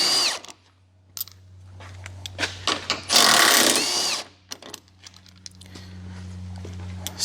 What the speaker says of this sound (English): This takes a 3/4 inch socket. You can also use a wrench or a ratchet wrench. We're just using an impact for ease here.